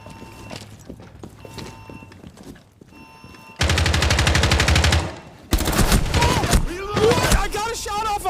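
Gunfire in the video game Rainbow Six Siege: quieter scattered shots and footsteps, then two loud rapid automatic bursts separated by a brief gap, with a voice briefly audible near the end.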